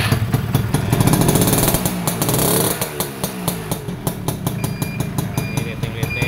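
Close and loud, a Yamaha V80 80 cc motorcycle engine runs after an electric start, revving briefly before settling into a fast, even putter at idle.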